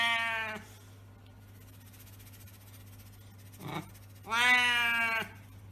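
A small cat meows twice, a loud drawn-out mew at the start and another a few seconds later, with a faint short sound between them over a steady low hum.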